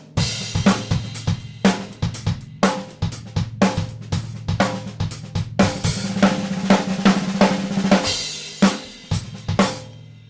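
A fast drum fill built on diddles played up to speed, a dense run of rapid snare and tom strokes with regular accents, loud and close.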